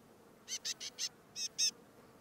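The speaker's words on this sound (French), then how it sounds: "Les petits cris de l'oiseau attirent le serpent vers le côté." Six short, high-pitched chirps from a small bird in the Australian wild, in two quick groups, four then two, fairly close against a quiet background.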